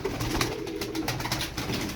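Pigeons cooing steadily in soft, rolling calls, close by, with constant fluttery background noise and no talking.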